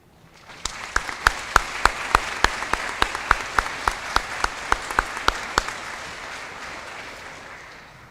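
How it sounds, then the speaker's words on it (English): A graduation crowd at a high school ceremony applauds with a dense burst of clapping. Sharp, regular claps stand out near the front, and the sound swells and then fades over several seconds. "graduates, please join me in a round of applause"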